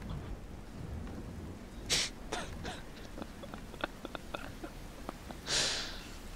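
Soft, steady rain hisses through a stormy fantasy tabletop-game scene, with two louder swells of thunder and scattered sharp crackles over a low rumbling background.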